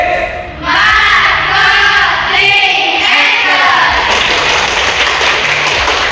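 A burst of clapping from a classroom of students fills the room, steady and loud for several seconds, with some voices mixed in.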